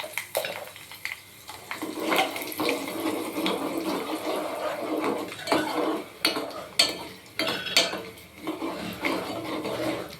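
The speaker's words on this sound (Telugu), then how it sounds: "తర్వాత ఎండుమిర్చి వేస్తున్నాను" Dried red chillies hit hot oil in a pan for tempering while cooking semiya daddojanam, a steady crackling sizzle broken by close clinks and scrapes of a metal utensil, with no talking.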